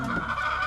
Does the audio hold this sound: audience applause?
no